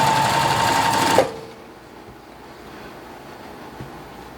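Sewing machine stitching quarter-inch seams on a quilt block, a fast close buzzing run lasting about a second before it stops abruptly, leaving quiet room noise.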